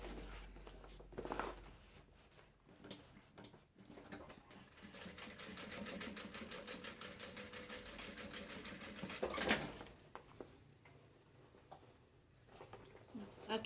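Sewing machine stitching a party bag, a steady close mechanical whir with fast needle clatter running for several seconds, with quieter handling noises before and after.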